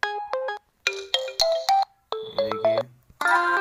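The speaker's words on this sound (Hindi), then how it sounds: "यहाँ पर आपके फ़ोन में रिंगटोन आ चुकी है" A built-in ringtone on an Oppo Reno 3 Pro phone plays bright, clean electronic melody phrases in quick bursts separated by short gaps, loud and close with no one talking.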